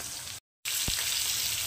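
Hilsa fish frying in a pan, a steady broadband sizzle with a brief silent gap and one soft low knock, close and moderately loud with no talking.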